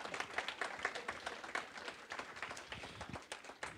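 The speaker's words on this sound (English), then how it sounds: "please let us give a quick round of applause to all of our speakers." Quiet applause from a lunch-workshop audience honoring the speakers, scattered uneven claps heard from a distance at low level.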